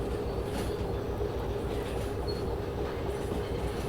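A train rolls along rails in the Derail Valley railway game, a steady low rumble of wheels and cars with faint squeals and clatter, continuous and close, with no voices.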